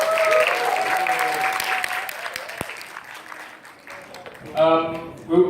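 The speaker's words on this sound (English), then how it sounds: "So please give a big round of applause to us." An audience at a social activities presentation claps, with a wash of applause fading under a speaker's voice before a short burst of clapping returns near the end.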